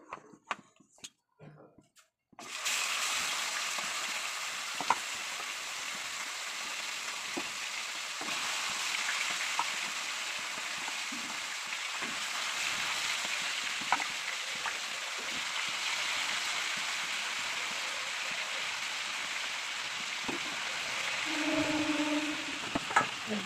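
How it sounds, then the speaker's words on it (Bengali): Chicken fries in oil in a wok, a steady hiss and sizzle starting abruptly after a brief quiet moment and continuing evenly with occasional small clinks. "এবার আমি ওই দিকের কড়াইটা চিকেন ভাজবো এটাই মশলা কষাবো"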